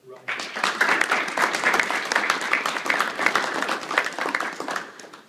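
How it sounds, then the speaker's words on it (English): A graduation audience at a Navy Seabee ceremony breaks into a brisk round of applause, rising quickly, holding steady and dense for several seconds, then tapering off. "Please give a round of applause to Chief Shockley"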